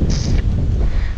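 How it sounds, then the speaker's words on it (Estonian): Gusty wind buffets the microphone at a fishing camp, a loud, continuous low rumble with no speech over it. "Ja täna on tuuline vastik."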